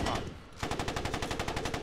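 A tank's coaxial machine gun in Post Scriptum fires a fast, even automatic burst up close after a brief pause, each round distinct and loud.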